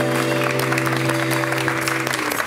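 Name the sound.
studio audience applause for departing guests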